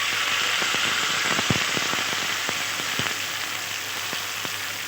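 Ginger paste, tomato and dried chilli paste fry in a pan for a raw green banana kofta curry, giving a steady close sizzle with scattered sharp crackles and pops and no talking.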